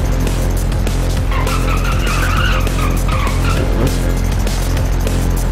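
Car in the Payday 2 heist video game driving hard and skidding, with loud continuous engine roar and repeated tire squeals over several seconds, close and dominant, with no talk.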